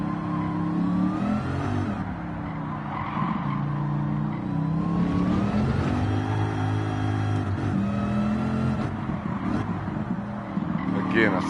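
A stock car with a bolted-on supercharger revs hard, its engine rising and falling in loud, close sweeps layered with a high whine from the supercharger.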